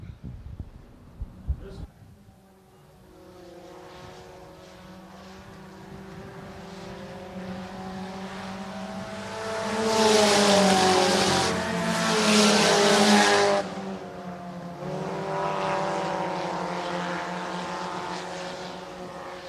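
Vintage stock cars circle the Shelby County Speedway oval, engines rising to a loud, close roar as the field sweeps past and then fading to a steady drone, with race commentary over it.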